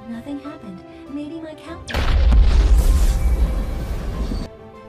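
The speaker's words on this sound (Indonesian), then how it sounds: "Sementara itu pesawat alien meledak." An alien spaceship exploding in a film: a sudden loud blast with deep rumble breaks in after a quieter stretch of voice and lasts about two and a half seconds before cutting off, leaving faint sound.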